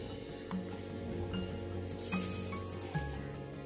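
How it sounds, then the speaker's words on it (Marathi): Cashew pieces roasting in oil and butter in a pan, a steady, close sizzle and crackle with occasional soft pops and faint clinks throughout, and no talking. "यामध्ये आपल्याला आपण जे काजूचे तुकडे घेतले आहेत ते थोडेसे रोस्ट करून घ्यायचे आहे."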